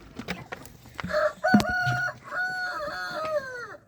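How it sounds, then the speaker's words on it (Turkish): A rooster crows loudly and long over scattered clucking of hens, with other fowl calling nearby. "Şu an bir sürü tavuk dışarıda geziniyor."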